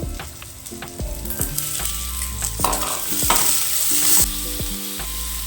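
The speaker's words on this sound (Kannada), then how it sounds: "ಚೆನ್ನಾಗಿ ಕೆಂಪಗಾಗೋವರೆಗೂ ಫ್ರೈ ಮಾಡ್ಕೋಬೇಕಿದೆ." About a cup of onions fries in a pan for a village-style mutton sambar, with a steady close sizzle broken by repeated sharp scrapes and knocks of a stirring spoon; no one talks.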